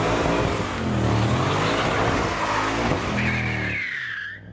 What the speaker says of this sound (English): All that power makes for some truly epic burnouts.